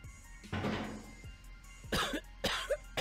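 Coughing from a character in The Boogie Man video game: a few separate harsh coughs and throat-clearing bursts, close and fairly loud, with short pauses between them and no speech.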